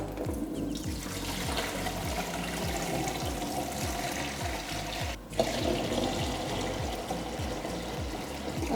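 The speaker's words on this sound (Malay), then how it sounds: "Eh ni air panas ni kita masukkan 3 liter tau" Three liters of hot water pour steadily from a tap or kettle into a drink jar, a continuous close splashing stream with a brief knock near the middle, lasting throughout with no talk.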